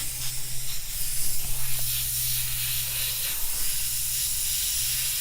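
An airbrush spraying paint onto a T-shirt, a continuous close airy hiss with a faint steady compressor hum beneath.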